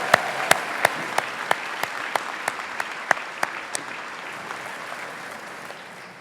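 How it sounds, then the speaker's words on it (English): Steady applause from a banquet audience at a chamber of commerce annual dinner and awards, a dense wash of clapping with a few sharp nearby claps standing out at first, slowly fading over several seconds. "Please give these fine men and women a great round of applause."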